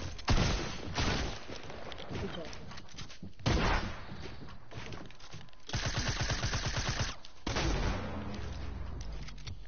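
SMG gunfire in a video game shootout, with long rapid bursts of automatic fire alternating with shorter volleys and sharp single shots, loud and close, with a few faint voices underneath.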